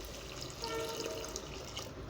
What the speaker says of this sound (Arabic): وننزل بشوية مية كمان